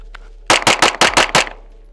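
Six pistol shots ring out in a fast, evenly spaced string, loud and close, each with a short echoing tail, from a handgun fitted with a Holosun 507COMP red dot optic at a shooting range.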